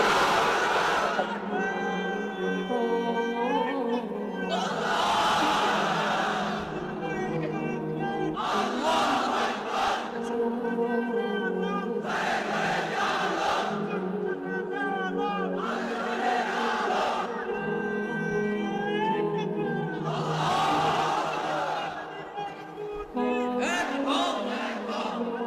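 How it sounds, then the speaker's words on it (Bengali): Crowd of unmarried men at a Bangladeshi religious sermon gathering shouting the takbir chant, repeated loud collective call-and-response bursts with a leading voice and massed shouts answering in rhythmic waves. "এবার অবিবাহিতরা দাও লিল্লাহি তাকবীর"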